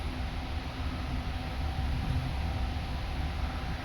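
An ES44 diesel freight train rolls slowly out of the Cascade Tunnel with a continuous low rumble and steady broadband roar, fairly close and unbroken throughout.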